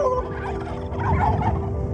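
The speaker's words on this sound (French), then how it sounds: "Le dinde, ça te répond." A turkey gobbles nearby, a rapid warbling burst rising over a low background rumble, with no talking.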